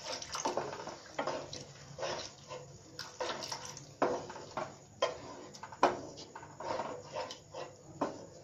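Water is poured into a pan of cooking matar paneer, coming in quiet, uneven splashy bursts with short pauses between them.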